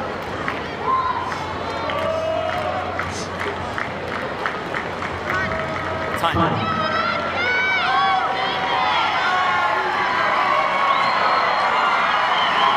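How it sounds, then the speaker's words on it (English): A tennis crowd cheers and shouts in support of Agassi at the 2003 Masters, a dense, lively roar of many voices with whistles and calls, sustained and swelling, and a few words are spoken over it. "Listen to the crowd, they'll tell you everything you have to know about the support that Agassi has here."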